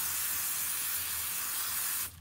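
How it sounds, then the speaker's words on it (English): An aerosol can sprays adhesive onto an embroidery hoop for a machine-embroidered hooded towel, a close, even hiss lasting about two seconds before cutting off. "probably didn't need to spray it that much since the towel's not even touching the top"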